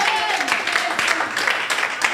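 A church congregation applauds and cheers at a worship service, with dense overlapping clapping and raised voices filling the room at steady loudness throughout.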